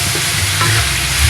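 Chayote and carrots frying and being stirred in a pan, a loud, steady sizzle with scraping stir strokes running throughout, close up and with no talking.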